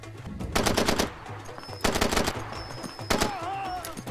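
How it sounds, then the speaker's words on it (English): Three loud bursts of automatic gunfire in the video game Far Cry 2, each a rapid volley of shots roughly a second apart, with echoing tails and a faint whine between them. "Some nice tactical burst fire right there."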